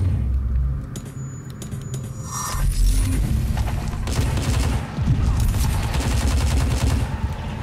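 Rapid bursts of gunfire from the stealth action game Hitman Absolution, dense and loud, with overlapping shots and low rumbling impacts sustained through most of the stretch.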